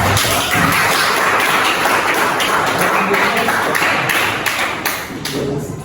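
A classroom of students claps steadily during a lesson on Islamic jurisprudence, and the close, dense patter of hands holds for several seconds before easing slightly at the end.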